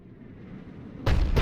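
A heavy cannon fires in the sci-fi game Mass Effect Legendary Edition, a single loud, sudden blast that erupts after a low rumbling drone, with a brief second burst.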